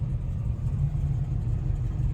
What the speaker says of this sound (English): we're going to take this 1967 Chevrolet Camaro for a test drive